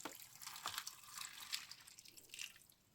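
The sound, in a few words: water poured into a plant pot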